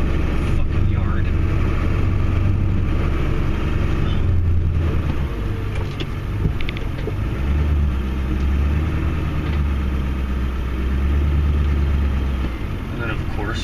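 Snow plow truck engine idling with a steady low rumble throughout while plowing a tight-quarters driveway, close and continuous with slight swells in intensity.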